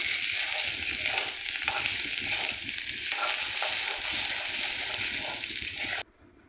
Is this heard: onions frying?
yes